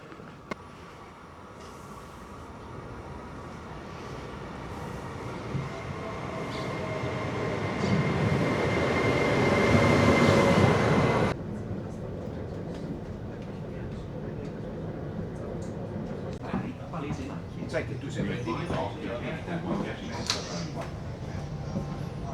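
Inside a train car there is a steady rumble that swells louder, then drops to a quieter hum, with faint voices and small clatters on board.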